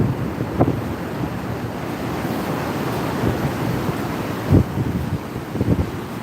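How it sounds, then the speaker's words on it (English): Wind-driven waves crash along the Lake Michigan shore in snowy Chicago weather, a constant roaring surf with heavy wind buffeting the microphone and a few louder breaking surges, no voices. "Look at the angry waves here."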